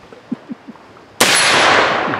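A muzzleloading rifle fires at an outdoor woods walk shoot: one loud, sharp, close blast that rings on, after a few soft knocks.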